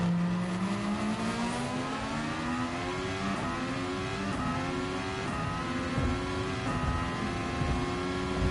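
Race car engines in Gran Turismo Sport, loud continuous high-revving whine with rising pitch sweeps through gear changes, several cars close together, no talk.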